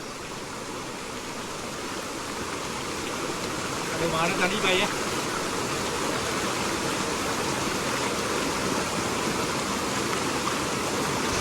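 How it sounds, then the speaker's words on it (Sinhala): Mountain stream water rushing steadily at a cold bathing pool on a hiking route, a constant broadband wash filling the whole stretch, with a brief voice speaking over it around the middle. "පොඩි පෝල්නයක් වගේ."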